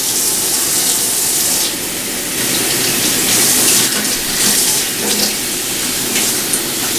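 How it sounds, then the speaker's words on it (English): Running tap water gushes steadily over dyed human hair being rinsed, a close, continuous splashing hiss that swells and dips as the hair moves under the stream. "So really rinse this hair out."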